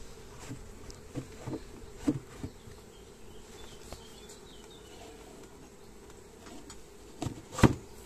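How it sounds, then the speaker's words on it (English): Bees flying around a backyard hive outdoors, a faint continuous buzz with soft scattered knocks and taps over quiet background. "There's loads of bees flying around"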